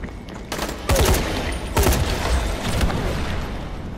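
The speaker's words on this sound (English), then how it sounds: "What are all the explosions?" Gunfire and explosions in the zombie game Dying Light, with loud bursts of shots and two big booms coming through a dense, continuous combat din.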